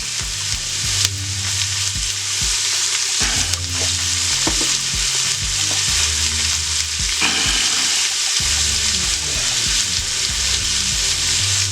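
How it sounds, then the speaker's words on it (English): Vegetables seasoned with salt sizzle and fry in a power pressure cooker, a loud continuous crackle with stirring scrapes and knocks throughout, no voices. "Sweat those down just a little bit in the power pressure cooker."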